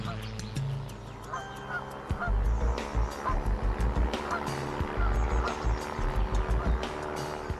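Flock of migrating geese honking, a run of repeated nasal calls that grows louder midway and then continues as a steady rhythmic series over a low rumbling background.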